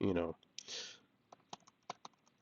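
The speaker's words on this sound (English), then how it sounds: "And I can type in here" Keys clatter on a computer keyboard in short irregular bursts of clicks, close and fairly crisp, following a brief bit of speech at the start.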